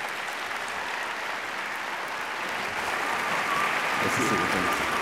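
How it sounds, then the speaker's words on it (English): Audience applause for two panel speakers at a Washington DC event, a steady broadband wash of clapping that swells and grows louder toward the end of the stretch. "Ladies and gentlemen, please give a round of applause."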